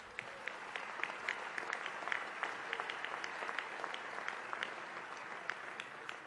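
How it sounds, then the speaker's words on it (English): A large dinner audience at the Alfred E. Smith charity dinner in New York claps steadily and evenly for several seconds, a dense sustained applause heard from some distance without talk. "We're supposed to clap now."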